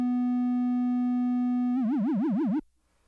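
A UDO Super 6 polysynth holding a steady, bright single note that, after a couple of seconds, swells into a fast wavering vibrato under aftertouch pressure before it cuts off abruptly into near silence.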